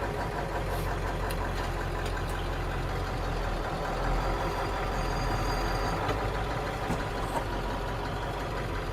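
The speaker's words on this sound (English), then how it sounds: "That starter they got in here sure zings it over" Ford 7.3 Powerstroke diesel engine in a 4WD truck, steady loud idle with a low rumbling drone and faint knocking clatter, continuous and close throughout.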